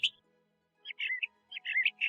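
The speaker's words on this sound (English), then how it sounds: "The mockingbird is thusly called so because this bird can know hundreds and hundreds of songs." Northern mockingbird song played from a recording, clear bright chirping phrases in two quick bursts after a short pause, with a faint steady hum underneath.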